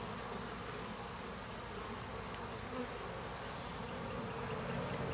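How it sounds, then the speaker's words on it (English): Dense, steady buzzing of many bees close by at an opened hive frame, a continuous insect drone with no talking. "There's certainly a lot of bees present."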